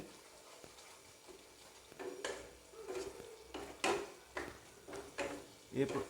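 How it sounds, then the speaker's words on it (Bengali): A spoon stirring egg curry masala with yogurt in a pan, making a series of scraping, clinking strokes that grow louder partway through, with faint sizzling underneath. "আর সাথে সাথে নাড়াতে থাকবেন"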